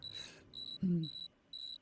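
A phone alarm ringing in the horror game Hollow Home: repeated bursts of bright electronic beeping, four short pulses evenly spaced, with a low thud overlapping one of them.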